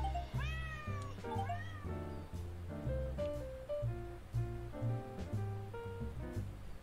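A cat meows repeatedly among moored boats, with rising and falling cries that stretch into a drawn-out caterwaul. The calls are close and prominent over a low background hum, and no one speaks.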